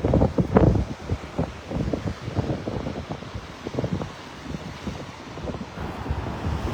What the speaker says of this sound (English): It's that wind just cutting through everybody out here.